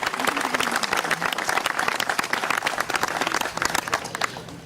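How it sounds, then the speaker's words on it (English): An audience applauds a WWII veteran, a loud, dense burst of clapping with crowd murmur mixed in, sustained throughout. "Let's give Mr. Oberneufmann a round of applause."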